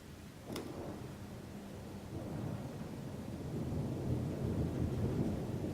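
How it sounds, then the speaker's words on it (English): A thunderstorm rumbles outside, heard from indoors as faint, low, continuous rolling thunder that slowly builds in strength, with a soft hiss of rain or wind beneath. "Sounds like we got a bit of a storm outside."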